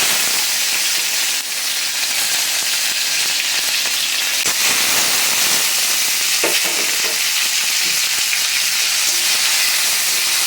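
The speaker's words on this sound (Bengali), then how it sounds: "তেল গরমটা হয়ে গেছে, এখন আমি তেজপাতাগুলি দিয়ে দেব। শুকনো লঙ্কাগুলি দিয়ে দেব।" Bay leaves and dried red chillies hit hot oil for a traditional chakhoi dish, giving a steady, loud, close sizzle that crackles on without pause, with a few sharper spits and clinks partway through.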